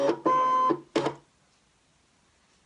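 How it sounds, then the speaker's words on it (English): A ScanNCut cutting machine draws a piece of card in with two short, close mechanical whirring bursts of its feed motor, then a third brief burst before falling quiet. "I'm going to load my piece of card into the machine."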